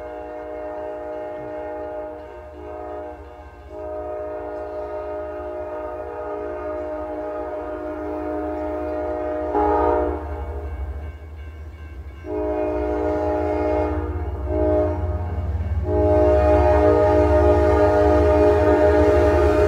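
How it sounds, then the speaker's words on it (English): A CSX grain train rolls past the old L&N depot in Hopkinsville, Kentucky, its horn blaring long chords over the low rumble of locomotives and cars that grows louder as it nears. "We got our same grain train coming north here."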